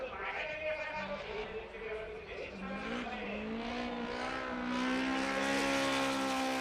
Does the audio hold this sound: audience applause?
no